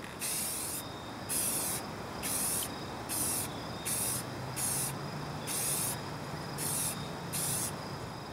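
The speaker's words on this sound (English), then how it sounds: "Make sure you do light coats, even sprays." Spray paint hissing onto a car headlight in light, even coats: about nine short, bright bursts spaced roughly evenly, each lasting under a second, close and fairly loud with no talking.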